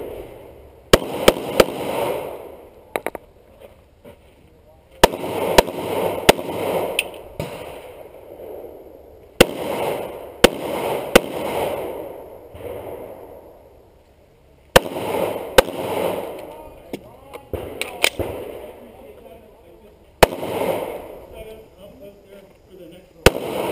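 Pistol gunshots ring out during an IDPA course of fire at an outdoor sportsmen's range, coming in sharp clusters of two or three loud cracks with short pauses between strings, over faint background noise.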